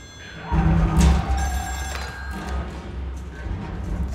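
A telephone rings inside the video game Still Wakes the Deep, set on an oil rig, heard over a low rumbling ambience with thuds and mechanical noise.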